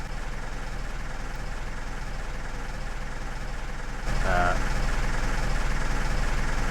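John Deere tractor engine idling in Farming Simulator 15, a steady low rumbling drone that grows slightly louder partway through, with a brief tonal blip over it.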